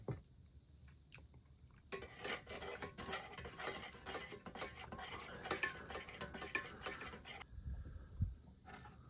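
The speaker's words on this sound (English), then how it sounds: "I should probably stir it first." A spoon stirs tea from a 2025 Ukrainian military lunch ration, clinking and scraping rapidly against the cup for about five seconds after a quiet start, then stopping.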